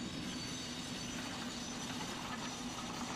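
A Western class diesel-hydraulic locomotive runs steadily along Brunel's mainline railway, a continuous rumbling drone with a low engine hum and rail noise, heard alone at moderate distance.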